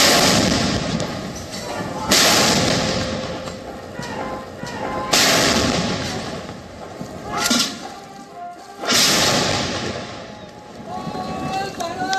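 25-pounder cannons fire during the 2022 Independence Day ceremony at the Red Fort, a few heavy booming blasts several seconds apart, each trailing into a rolling rumble over a steady outdoor background din.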